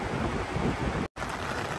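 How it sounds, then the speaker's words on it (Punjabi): Rain pours down in the hills near Palampur as a dense, steady hiss with wind rumble, loud and close to the microphone, broken by a brief dropout midway. "ਬਾਰਿਸ਼ ਸ਼ੁਰੂ ਹੋ ਚੁੱਕੀ ਹੈ"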